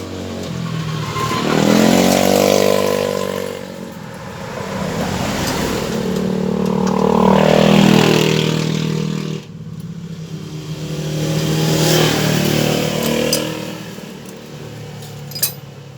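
A motorcycle engine, noisy again just after a valve adjustment, revs hard up close in three long rising and falling surges with a brief dip between them.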